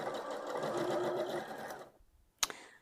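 A Janome sewing machine hums steadily as it sews a decorative heirloom bridge stitch, then stops after about two seconds, followed by a single sharp click.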